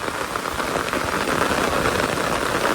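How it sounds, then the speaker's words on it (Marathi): Steady rain pours onto a waterlogged paddy field, a dense continuous hiss of drops on water and crop that holds even from start to end, with no voices. "हे बघा पाऊस बघा पाऊस"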